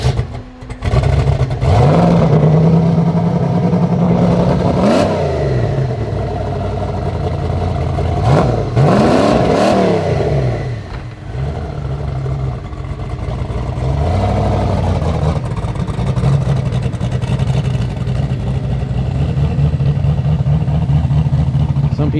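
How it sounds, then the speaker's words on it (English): Giveaway vehicle engine fires up and revs in repeated surges, loud and close, with brief dips and clattering between bursts. "I heard the giveaway vehicle fire up"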